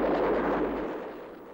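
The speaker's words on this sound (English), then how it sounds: "Pilots are instructed on how to attack ground targets with unguided rockets, and also with the twin 23mm internal cannon." Twin 23mm internal cannon and unguided rockets of a MiG-21 fire at ground targets in a single dense, roaring burst that swells and then fades over about a second and a half, with no voices.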